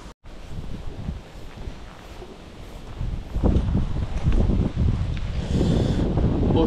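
Strong wind buffets the microphone outdoors while fishing, a steady roaring rush with heavier gusts building in the second half.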